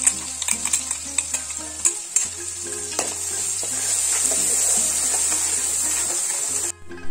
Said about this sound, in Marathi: 1 मिनिटासाठी आपल्याला लो टू मीडियम फ्लेमवरच परतून घ्यायचं आहे